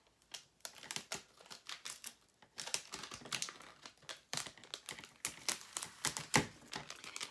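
Vinyl transfer tape being rubbed down and peeled back from a Dollar Tree wooden farmhouse cross, giving a quiet run of crinkling, crackling tears and dry rubbing that builds in bursts, close up with no talking.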